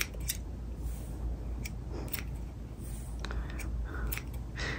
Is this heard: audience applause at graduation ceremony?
no